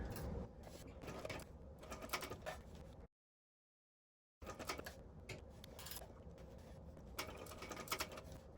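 A sewing machine set to a long stitch length chatters with a rapid mechanical patter as it sews a bag. It stops briefly, then runs again in quick bursts at close range.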